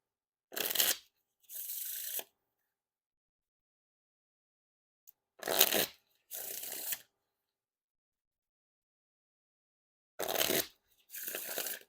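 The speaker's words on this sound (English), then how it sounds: "And now time for the riffle shuffle or bridge shuffle." Lepidopterist Patina Edition playing cards are riffle shuffled three times, each a quick rapid flutter followed by a short soft bridge cascade, with silence between.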